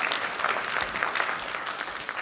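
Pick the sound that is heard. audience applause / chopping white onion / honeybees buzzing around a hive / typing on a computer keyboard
audience applause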